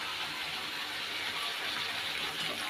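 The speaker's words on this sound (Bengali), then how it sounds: "এখন দিয়ে দেবো গরম জল" Hot water poured into a pan of lightly fried eggplant, a steady broadband rush of liquid lasting a few seconds, moderately loud and continuous with no talk.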